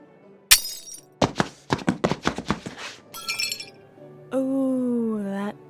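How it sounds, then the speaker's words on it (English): A wine glass is smashed over a man's head in a fantasy noble setting. A sharp crash comes first, then a flurry of tinkling, clinking shards, followed by a sustained ringing tone. "Lord Rubus just broke a wine glass over that man's head."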